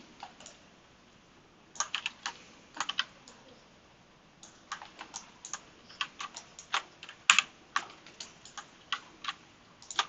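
Quick keystrokes and mouse clicks on a computer during Maya 3D modeling work, sparse and quiet at first, then coming in irregular bursts of crisp, close taps.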